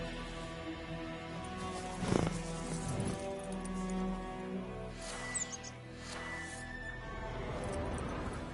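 A horse in The Witcher video game gives a loud whinny, then a second shorter neigh, over steady hoofbeats and ambient game sound throughout.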